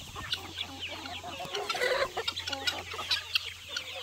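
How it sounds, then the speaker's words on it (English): Rare-breed chickens cluck in a scattered series of short calls on a homestead, near and moderately loud over a low steady hum, with no talking. "We got 60 unique rare birds from all over the world."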